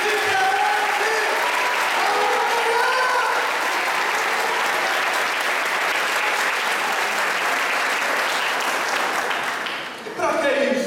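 A congregation at a Baptist church anniversary and pastors' consecration service in 2013 bursts into loud, sustained applause. Raised voices and singing mix in near the start, and the clapping fades briefly before a voice returns at the end.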